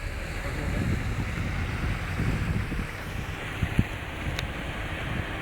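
Floodwater rushes beneath a car in a flooded street, a broad steady roar mixed with wind buffeting the microphone and a couple of brief knocks.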